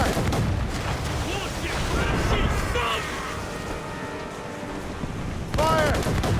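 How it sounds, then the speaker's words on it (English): Naval battle in Assassin's Creed Rogue, with ship mortars and cannons booming in heavy, overlapping volleys under a continuous roar of battle. Shouted crew voices and talk carry over the din. "Mortars would prove most advantageous right now."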